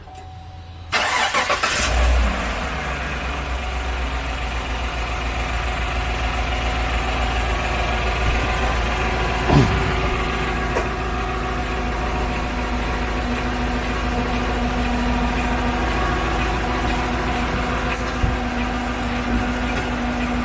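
A car engine, either a 2020 Honda Civic or a 2018 Chevrolet Silverado just after an oil change, cranks briefly and catches. It then settles into a steady, even idle that runs close and unbroken for about twenty seconds with no talking.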